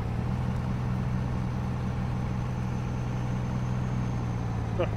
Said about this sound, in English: Truck wants to dig in there.